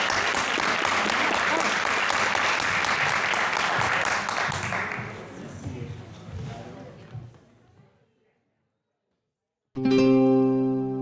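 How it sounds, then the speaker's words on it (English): An audience gives its speakers a round of applause after a community talk, with dense, loud clapping for about seven seconds. It thins and fades to silence before music begins. "round of applause for our speakers"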